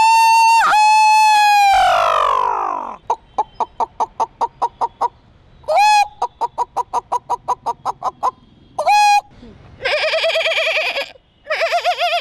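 A voice imitates bird calls: loud, close whistled notes, long runs of rapid even chirps, and warbling cackles like fowl, broken by short silences.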